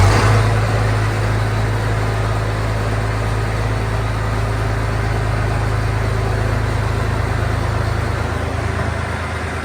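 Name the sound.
1206 tractor engine warming up before dyno test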